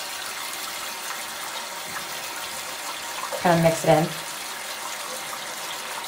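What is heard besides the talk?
pouring water into basin to wash wig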